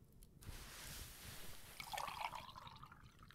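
Water pours into a glass, a faint, close trickle that rises briefly and splashes before fading, alone in a quiet room.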